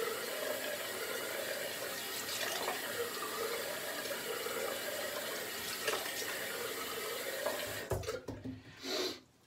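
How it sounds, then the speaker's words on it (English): Cold tap water runs steadily into a sink for a post-shave rinse, a constant close rushing stream that breaks into splashing and gurgling before stopping near the end. "cold water rinse and we'll finish up this last video"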